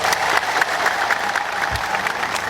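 Audience applause fills the hall at a religious teaching talk, a steady dense clapping that runs the whole moment at fairly loud level with no pauses.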